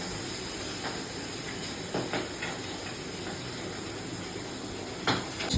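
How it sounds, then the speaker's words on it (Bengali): A pan of fish frying and popping in oil makes an even, low hiss throughout, broken by a handful of sudden crackling bursts, the loudest near the end, with no talking. "মাছগুলো ফাটছে এটাও ঠিক মাছ ভাজবে"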